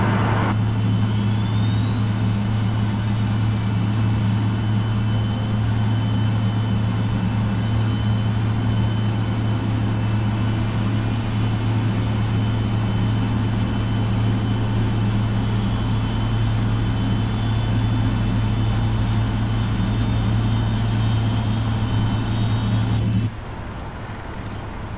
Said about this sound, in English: And let's start our right engine.